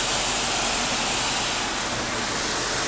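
A Mark VII SoftWash rig slowly sprays a rinse at a Texaco station in Spring, Texas: an unbroken, loud, broad hiss of pressurised water close by, with no voices.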